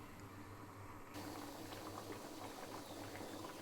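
Drumstick (munakkaya) dal sambar boiling in a covered pot, a steady bubbling simmer with a low hum underneath, continuous and moderately close, no talking.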